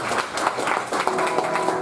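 Toastmasters club audience giving a round of applause at a meeting, a dense crowd of clapping hands, steady and fairly loud, with a faint voice underneath.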